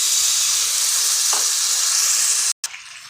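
Tamarind water poured into spices frying in oil for a sprouted fenugreek curry, giving a loud, steady sizzle and hiss that stops abruptly near the end, then resumes more quietly.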